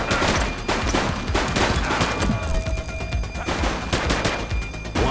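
Rapid gunfire and bursts of automatic shots crackle continuously in The Precinct video game, a dense, loud barrage with no pauses across the whole stretch.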